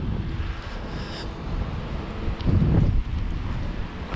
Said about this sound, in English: Wind is really kicking up now.